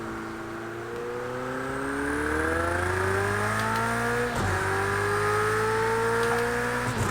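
Engine of a car in a racing video game revving steadily and climbing in pitch, with a brief dip around the middle before rising again, loud and continuous throughout.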